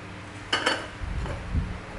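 Clinks of a glass lid knocking against a metal Japanese pot, a couple of sharp rattles followed by softer thuds of the pot being shifted.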